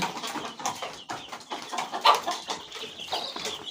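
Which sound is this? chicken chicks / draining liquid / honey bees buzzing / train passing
chicken chicks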